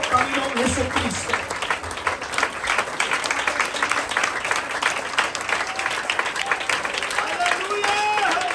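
A church congregation applauds with a sustained, loud patter of many hands, while voices and shouts rise over the clapping throughout.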